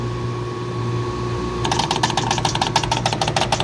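A 2-stage Carrier package unit's 410A compressor kicks on partway through, adding a rapid rhythmic mechanical chatter over a steady electrical hum and broadband whoosh.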